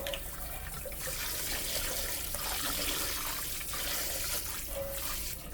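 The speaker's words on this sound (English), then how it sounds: "So I'm going to empty it and rinse the sink really well with hot water." Hot tap water runs steadily into a kitchen sink as it is rinsed, a continuous close splashing rush with slight shifts in flow.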